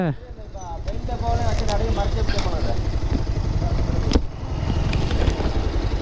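A modified Bajaj Pulsar 220F touring motorcycle runs loud and close, its engine revving with rising and falling pitch throughout.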